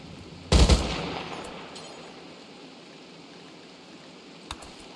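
One loud, sharp gunshot burst in the colony game Rimworld fades into a quiet hum, followed a few seconds later by a faint, distant click.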